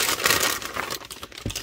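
Plastic bag crinkling while unboxing Amazon Basics erasers, close and loud rustling and crackling handled continuously with small irregular bursts, no talking over it.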